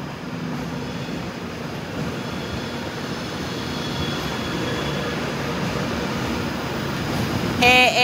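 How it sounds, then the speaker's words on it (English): A CrossCountry Voyager train departing a station, a steady, broad rumbling roar that swells slightly as it pulls away, with a brief high squeal near the end. "departing out there is a cross-country Voyager"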